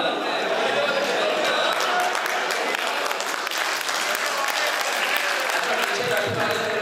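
Steady, dense applause from a large audience at a poetry mushaira in Bahrain, loud and continuous throughout, with faint crowd chatter mixed underneath.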